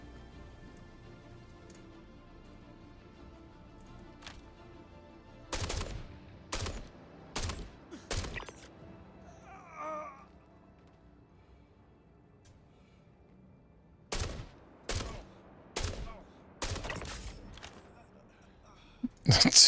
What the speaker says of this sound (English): Freaking love this rifle.